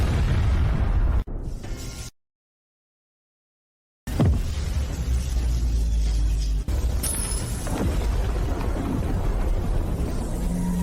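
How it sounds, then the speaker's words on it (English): A main cannon firing at maximum sequence: heavy booming blasts, then a sudden dead silence, followed by a loud rumbling explosion and further bursts over a continuous roar. "main cannon firing at maximum sequence"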